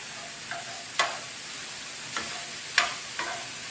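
Andouille sausage sizzling in a pan while being broken up, a soft steady fry with several sharp scraping clacks of a utensil against the pan spaced irregularly.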